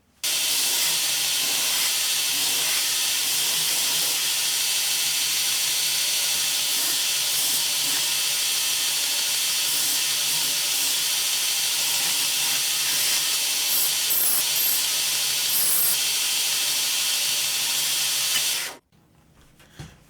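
A knife bevel being ground on a belt sander with a jig gives a loud, steady abrasive hiss that runs unbroken for about eighteen seconds before it stops abruptly.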